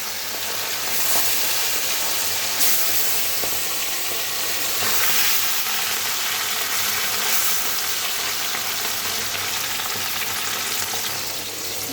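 Small fish fry in hot oil in a pan, giving a loud, continuous crackling sizzle that stays close and steady throughout with no talk over it.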